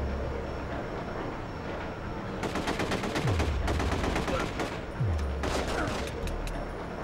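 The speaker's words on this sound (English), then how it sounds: "Who's shooting me?" Rapid automatic gunfire in the video game The Getaway, bursts of dense shots crackling through a noisy backdrop with short gaps between them, moderately loud and continuous over several seconds.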